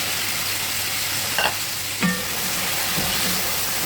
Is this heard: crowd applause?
no